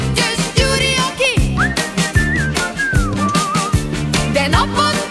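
A man whistles a lilting, sliding melody over a loud, rhythmic band backing of a Hungarian song, the whistled line clear and prominent.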